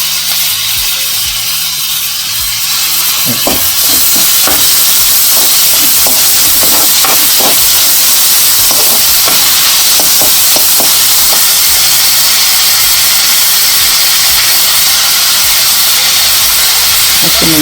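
Tomatoes added to a little hot oil with onion for Konkani anbe masala, hitting the pan in a loud burst of hiss and steam that sizzles steadily and close up with scattered crackles.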